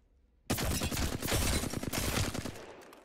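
Assault rifle fire in Apex Legends while strafing, a sudden, sustained fast automatic burst that cuts in from near silence and stays loud and close to the end.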